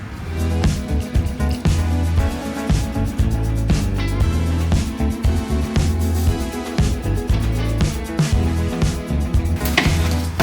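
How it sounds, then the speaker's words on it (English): Stand mixer churning wet and dry bath bomb ingredients together, a steady loud whirring with continuous scraping and rhythmic knocking throughout. "I'm going to add my wet ingredients to my dry ingredients and let them continue to mix in the stand mixer"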